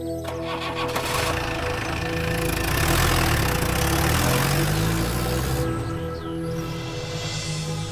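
A tractor engine chugs steadily at close range, rising slightly in the middle before settling back to a rough idle.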